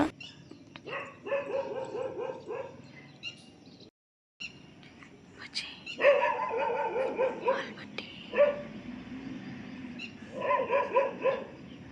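Dog barking outdoors at night in bursts of rapid yips and barks, fairly close, recurring several times over the stretch with brief pauses between volleys.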